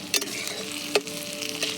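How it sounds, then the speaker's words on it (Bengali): Onions fry in oil on a wood-fired clay stove, giving a soft continuous sizzle broken by two sharp clinks of a stirring spoon against the pan. "আমি পেঁয়াজটা ভাজছি এখানে"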